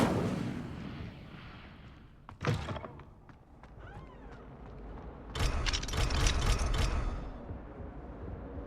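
In the Hogwarts Legacy video game, the Incendio fire spell is cast with a sharp burst followed by a crackling, whooshing flare of flames, amid other game sound effects.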